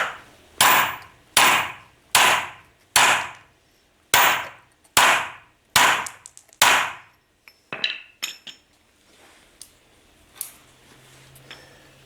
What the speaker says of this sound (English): Get yourself a hammer, and we're just going to pound it out of there